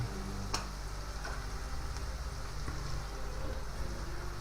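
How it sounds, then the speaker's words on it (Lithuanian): Onions sizzle steadily in a pan as meatballs cook, a close, continuous frying hiss with a few faint clicks and stirring scrapes, no talking. "Kaip tik iškeps svogūnai."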